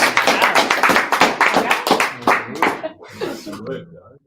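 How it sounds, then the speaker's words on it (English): An audience claps and applauds after a team pitch at the EIA Competition in Wellington, a dense burst of many hands that gradually thins out and fades to scattered claps and then silence. "All right, round of applause for Air New Zealand."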